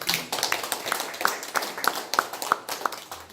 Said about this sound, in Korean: 정말 힘찬 강의를 해주신 우리 신은용 선생님께 다시 한번 큰 박수를.